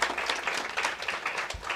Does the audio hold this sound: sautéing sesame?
no